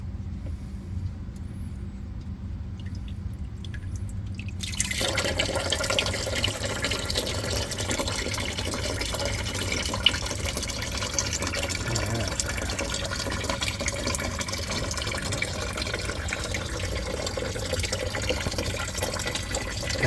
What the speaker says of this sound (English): we're gonna loosen this and drain the block